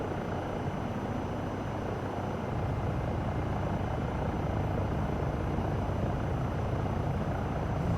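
A steady, loud Eurocopter EC135 helicopter rotor and engine drone in Microsoft Flight Simulator 2024 runs without a break, a dense low throbbing roar with no voices over it.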